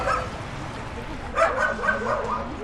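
A dog near a beach shore gives a few short barks and yips mixed with whimpering, close by, while people talk over it.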